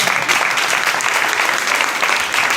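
Church congregation claps loudly and continuously, many hands together in an even, unbroken burst of applause with no voices standing out.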